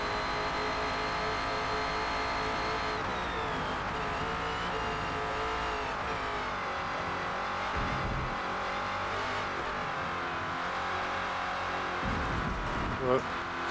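A #17 Ford Falcon FG X race car in Forza Motorsport at the Nordschleife roars at high revs, its engine note dropping and climbing through upshifts with tire squeal, while a voice talks over the steady racing din.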